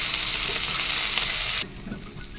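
Meat sizzles loudly in a hot pan with a bright, steady crackle that suddenly drops to a quieter simmer partway through, with faint stirring scrapes.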